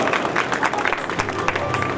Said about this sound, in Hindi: तालियां बजाता रहो जोरदार।